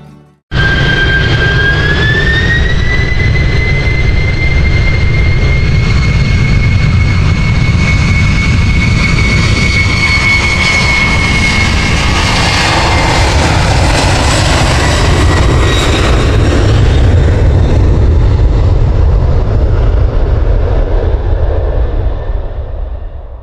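Jet engines of an aircraft spooling up for takeoff in the Roblox game PTFS: a loud, sustained roar with a rising whine that holds steady for over twenty seconds.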